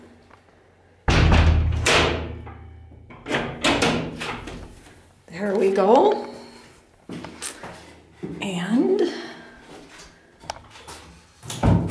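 A hidden wall door to a safe room is swung shut, giving several heavy thumps and scraping slides close by, with someone talking briefly between them.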